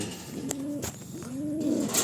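Pigeons in a breeding loft give soft, rolling coos, two or three close, low calls in quick succession over faint background noise.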